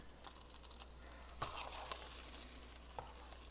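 Meatballs fry in a pan with a soft continuous sizzle, broken by a few light scraping knocks as they are gently stirred, all fairly quiet and close.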